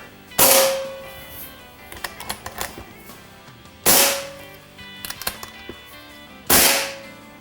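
An Evanix Rainstorm PCP air rifle fires JSB Monster pellets: three loud, sharp cracks spaced a few seconds apart, with small clicks and handling noises of reloading between shots.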